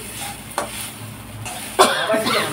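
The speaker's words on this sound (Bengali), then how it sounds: "তো দেখো এবার সুন্দর করে এখানে নেড়ে নিচ্ছি।" A spoon scrapes through sabudana upma with peanuts in a hot pan, giving a few distinct strokes over a soft continuous sizzle close up.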